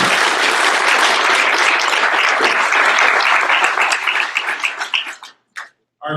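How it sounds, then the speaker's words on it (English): Audience at a chapter annual meeting applauds its sponsors with dense, loud clapping that thins out and fades in the final second. "I think another round of applause to all those who are supporting the chapter for our educational initiatives"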